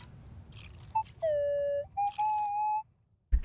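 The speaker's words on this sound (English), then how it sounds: "They really have to add a little slide whistle thing." A slide whistle sound effect in the video game Hyrule Warriors: Age of Calamity, a few bright tonal whistle notes sliding and holding at different pitches, loud and clear over quiet game ambience, ending with a sudden thump.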